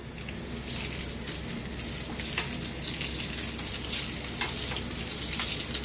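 Dried red chilies fry in hot oil with golden shallots for a mango fish curry, giving a loud, steady, close sizzle with crackling spatters throughout and no talking.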